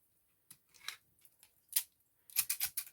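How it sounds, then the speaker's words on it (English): Scissors snipping close by in a quiet room, a few scattered single cuts and then a quick run of four or five crisp snips, rounding off the corner of a handmade tag. "Now I've got scissors."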